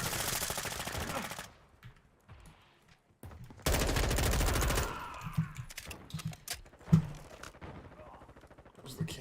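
Automatic gunfire in a Call of Duty mod, two long, loud, close bursts of rapid shots separated by a lull, then scattered single shots and impacts, with voices talking in between.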